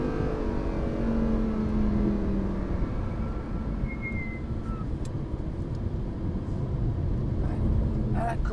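A car accelerating on the racing circuit at Lohéac during a driving course, a loud, steady engine drone heard from inside, with a voice talking over it.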